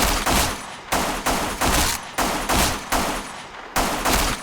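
Gunshots fired one at a time in the video game Black Squad during aim practice, six loud sharp reports at a steady rhythm about every two-thirds of a second, each with a short ringing tail, and no voices.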